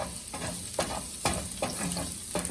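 Chopped garlic sizzles softly in hot oil in a pan for egg fried rice, with a few evenly spaced stirring scrapes over the low, steady frying hiss.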